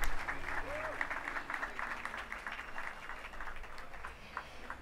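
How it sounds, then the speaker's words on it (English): Outdoor audience clapping at a Hollywood Walk of Fame star ceremony, a moderate burst of applause that tapers over a few seconds, heard at some distance with a voice speaking over it. "Let's give him another round of applause."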